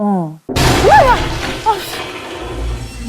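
A huge wave slams into a listing ship at sea that has lost propulsion from a rope fouling its propeller, giving a sudden loud thunderous crash and a lingering roar after a moment of narration.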